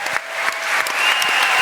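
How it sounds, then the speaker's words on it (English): A crowd at a live event in Athens, Greece claps steadily and loudly in a short, dense burst of applause. "One round of applause for Giannis Antetokounmpo for doing this now."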